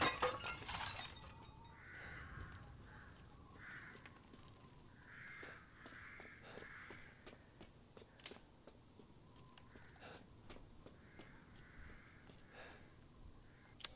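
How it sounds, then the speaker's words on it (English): Crows caw in the video game Resident Evil Village, with scattered faint calls over a quiet outdoor ambience and a brief crash near the start. "Eventually you're going to be hearing some friggin' crows out here."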